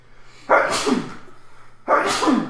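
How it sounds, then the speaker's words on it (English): Two loud sneezes, close up, about a second and a half apart, each with a sharp burst of breath. "I'm about to sneeze."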